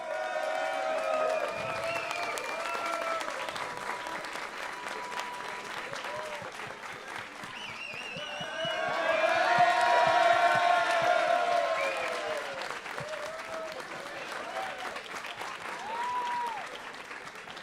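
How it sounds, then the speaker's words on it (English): At a Brazilian Dynasty LAN final in São Paulo, an audience claps and cheers steadily for the champion, swelling midway over tonal music while an announcer talks intermittently. "Keep clapping, please, there's more."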